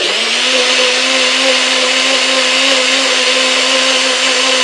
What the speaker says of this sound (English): So I'm putting it in my NutriBullet without water